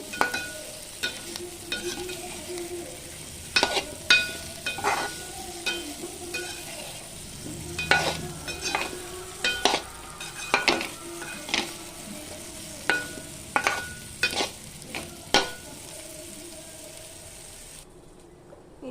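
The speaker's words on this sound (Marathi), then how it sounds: "थोडं चवीपुरतं मीठ टाकायचं आहे. परतून घ्यायचं." Vegetables for a nutritious fasting dish sauté in a pan with a pinch of salt. A soft sizzle runs under rhythmic, fairly loud spatula scrapes and taps that stop abruptly near the end, with no speech.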